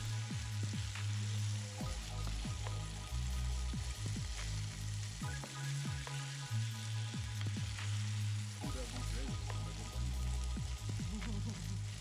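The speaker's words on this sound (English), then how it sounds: "Listen to that wonderful sizzle." Two burger patties frying in a pan give off a loud, steady sizzle with crackling pops, filling the whole stretch without any talk.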